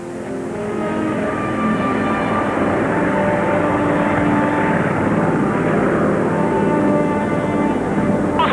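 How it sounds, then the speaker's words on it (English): An aircraft takes off from Thule in Greenland, its propeller engines droning loud and steady throughout, a continuous close roar with no talk. "Darrell and the others take off from Thule"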